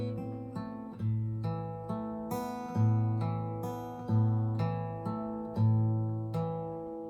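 An acoustic guitar plays a fingerpicked section with bass notes and ringing treble strings in a repeating rolling pattern, fairly quiet and alone.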